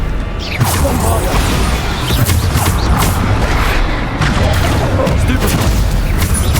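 Bombarda blasting spell going off repeatedly in Hogwarts Legacy combat, dense booming bursts layered over continuous loud battle noise with whooshes and crashes, no clear talk.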